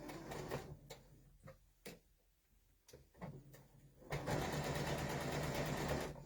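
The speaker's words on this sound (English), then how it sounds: "you can tell how a sewing machine is doing by the sound of it." A sewing machine clatters in short, stop-start bursts, then runs steadily and loudly at a fast, even stitching rhythm.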